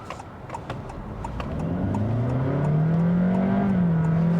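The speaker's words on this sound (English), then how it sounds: "the CVT is stepping, so it sounds like a normal automatic transmission" A 2023 Honda HR-V Hybrid with a CVT accelerates from inside the cabin, its engine note climbing in distinct simulated gear steps like a conventional automatic, steady and fairly loud with no talking.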